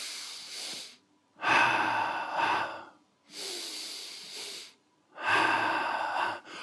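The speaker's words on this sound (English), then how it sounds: "Each breathing cycle has inhalation and exhalation." Breathing while walking: loud, close inhalations and exhalations alternate in a steady rhythm, four distinct breaths separated by short silences.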